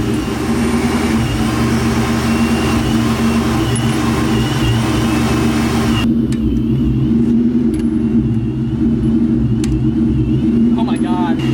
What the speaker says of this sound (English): we're gonna let it warm up for a little bit. Probably drive it around the block really fast